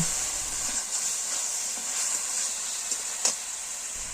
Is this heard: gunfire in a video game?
no